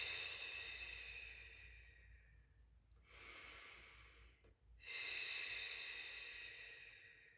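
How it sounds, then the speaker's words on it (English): Slow, deliberate lateral breathing during a Pilates session: close, airy breaths repeat in long hissing phases with short pauses between them, heard alone in a quiet room. "And this is our lateral breath."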